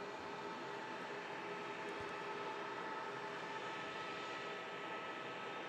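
An EasyJet Airbus airliner taxiing at Manchester Airport toward runway 05 left, a steady broadband engine roar holding at even loudness throughout, with no talk.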